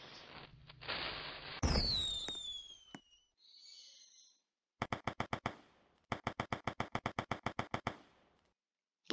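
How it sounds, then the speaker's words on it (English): A firework launches with a whistling streak in Liberty County RP, followed by a brief pause and then rapid bursts of sharp crackling pops in two quick volleys, crisp and distinct against near silence. "Beautiful firework that we just shot off."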